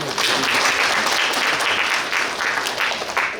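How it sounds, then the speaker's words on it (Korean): Loud, sustained applause from a forum audience fills the air after a fusion gugak group's performance, a dense steady wash of clapping with no voices. "다시 한번 큰 박수 부탁드립니다"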